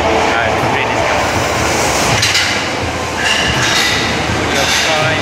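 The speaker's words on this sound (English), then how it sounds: "the train is coming." A train pulls into a station in Osaka, Japan, its steady rumble and metallic rattling filling the platform, with a faint clink and a brief whoosh as it rolls in.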